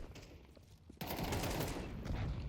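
Counter-Strike 2 gunfire, a sudden loud burst of rapid shots that starts abruptly and keeps up as dense crackling fire, close and alone.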